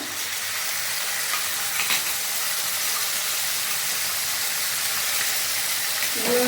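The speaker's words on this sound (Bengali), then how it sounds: "এবার সসটা দিয়ে ফ্রাই করব।" Soya chilli frying in a pan with sauce, a steady close sizzle and hiss with occasional stirring scrapes, no talking.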